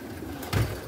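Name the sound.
pigeons cooing while being fed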